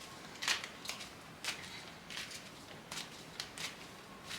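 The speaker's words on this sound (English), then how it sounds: "I need to shuffle the cards" Tarot cards being shuffled by hand, soft close riffling bursts and paper slaps at irregular intervals, faint and alone without talk.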